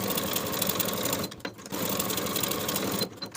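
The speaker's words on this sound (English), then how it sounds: "Sew the shoulder seams with a 1/2 inch seam allowance and press the seams open" Domestic sewing machine running close and steady, stitching bodice shoulder seams at a half-inch seam allowance, with two brief pauses in the whirring drone.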